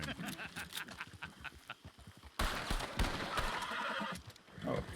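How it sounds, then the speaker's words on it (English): A horse whinnies loudly in a video game, with clip-clopping hooves in a quick irregular rhythm and a louder burst of movement partway through, close and clear. "Oh, that's my horse."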